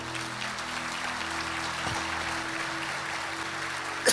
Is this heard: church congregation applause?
yes